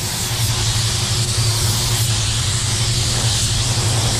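A paint spray gun running at 27 PSI lays down a light coat, giving a steady close hiss of air and atomized paint with a low constant rumble underneath, uninterrupted and with no talking.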